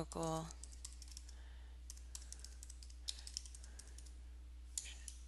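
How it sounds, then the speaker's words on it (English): Computer keyboard typing in irregular bursts of light clicks over a steady low electrical hum, with a short tonal beep at the start and a few louder key taps scattered through. "As you can tell, typing is not my forte."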